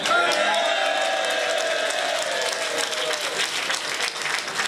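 Sustained audience applause with some cheering fills a theatre after a men's choir revue performance, a dense steady wash of clapping from a large crowd throughout.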